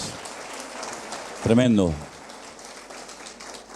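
A church congregation applauds, a soft rain-like patter of many hands that runs under a man's short exclamation and continues steadily afterward.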